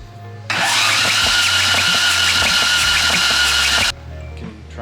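A VW Corrado engine being cranked, a loud sustained starter churn with rhythmic pulses lasting a few seconds before cutting off to quieter background.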